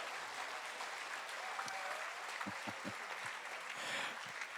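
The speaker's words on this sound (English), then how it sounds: "round of applause for all of them" An audience at a shellfish festival applauds the ten contestants with continuous crowd clapping, moderately distant and fairly quiet, with a few low thumps and faint voices mixed in.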